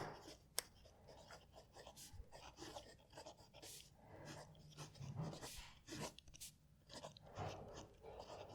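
Noodler's Konrad flex-nib fountain pen scratching across paper as a sentence is written with varying pressure, soft close scraping strokes in an irregular rhythm, with faint background rustles and a small sharp click near the start.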